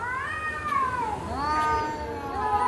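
A cat yowls in a drawn-out, wavering meow during a fight between two cats, loud and close, rising and falling in pitch with a second whining call following.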